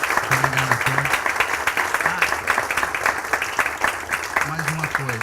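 Audience applause fills a conference hall, a steady wash of many hands clapping throughout, with a voice speaking briefly over it near the start and again at the end.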